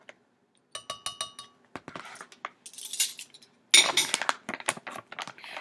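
A half-teaspoon measuring spoon clinks and taps repeatedly against a container while matcha is added for a matcha chai smoothie, producing close, bright metallic chinks in short irregular bursts.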